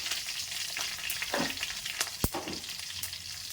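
Mustard seeds, curry leaves and cumin sizzle steadily in hot oil for eggplant curry, a constant close frying hiss with a few stirring scrapes and one sharp pop.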